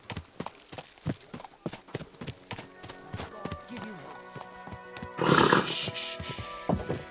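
A horse's hooves clip-clop in a steady, close rhythm of sharp knocks, then a burst of broadband noise rises near the end while a voice speaks briefly.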